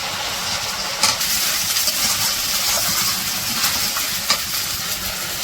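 Ginger garlic paste sizzles in hot oil in a pan for a village-style chicken curry, a steady close hiss of frying with a couple of brief louder spits.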